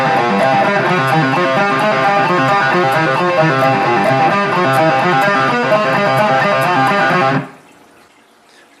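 A riff played at full speed on a heavily distorted electric guitar, a dense, driving stream of chugging notes for about seven seconds before cutting off abruptly into near silence. No talking.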